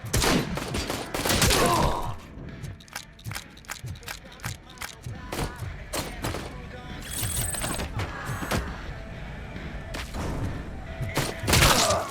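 Bursts of gunfire in the Robocop: Rogue City video game during a prison shootout, sharp rapid shots scattered throughout, with heavier clusters at the start and end, under occasional game dialogue and grunts.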